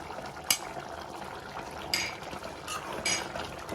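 Andhra-style chicken curry with garam masala fries in a pan under steady close sizzling, broken by a few sharper stirring scrapes and clinks of a spoon against the pot.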